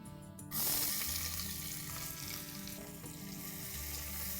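Sliced onions hit hot oil with bay leaves, cinnamon, cardamom, cloves and black peppercorns, bursting into a loud, close sizzle that then settles into steady frying.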